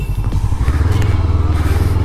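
FKM Expres 500 SC motorcycle engine idling and blipping up close, a steady low throbbing rumble with a brief rise in revs near the start.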